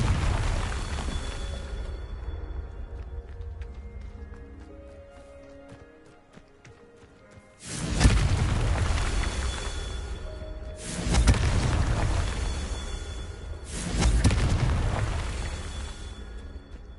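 Confringo blasts from Hogwarts Legacy on PS5, three loud booming bursts arriving roughly three seconds apart after a quieter stretch, each rolling off slowly.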